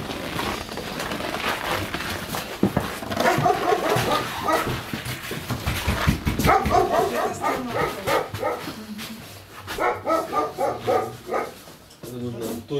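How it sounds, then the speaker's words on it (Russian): A small dog barks repeatedly outside a house while people nearby talk; bursts of yips and barking come and go over the voices, moderately close. "Собачка лает."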